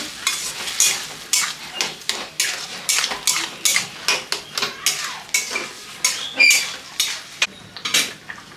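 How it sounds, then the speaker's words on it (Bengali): A spoon scrapes and knocks steadily against a cooking pot as sugar is stirred in, a rhythmic series of sharp metallic strokes about twice a second, close and clear with no talk. "এক বাটি চিনি এবার ভালো করে নাড়ায় নাড়াতে হবে"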